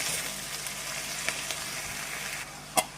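Chopped gongura leaves sautéing in a pan for a roti-style gongura chutney, a continuous sizzle with a few soft stirring scrapes and one sharper clack near the end, no talking.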